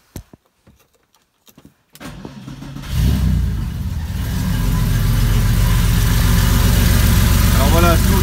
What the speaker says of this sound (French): On va donc démarrer le moteur et faire le test en direct.